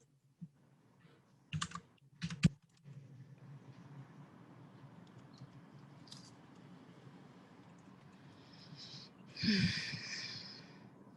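A few scattered keystrokes on a computer keyboard, faint and sparse, with a couple of sharper clicks early and a brief louder rustle near the end over a quiet room.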